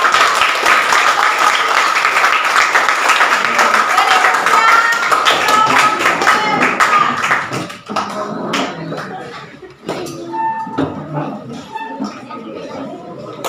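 A classroom of students applauds loudly and steadily for several seconds, then the clapping thins into scattered claps with some chatter.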